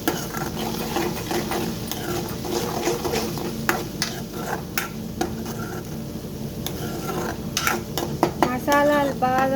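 Ginger garlic paste fries with onions in a pan, a steady sizzle under repeated scraping and clinking from stirring, fairly close and loud, with a faint voice briefly near the end.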